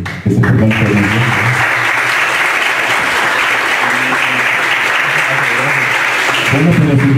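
A theatre audience applauds loudly and steadily after a student play, a dense, continuous wash of clapping lasting several seconds, with a voice faintly audible underneath.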